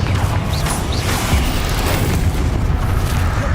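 Confringo blasting spell exploding in Hogwarts Legacy: a loud, dense burst of booming, crackling blast noise that fills the whole moment, close and alone with no talking.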